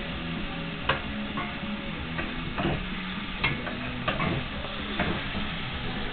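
Seafood cooks quickly in a pan for pasta with a steady, moderate sizzle. Occasional sharp clicks and taps of a utensil on the pan punctuate it, close and muffled, with no talking.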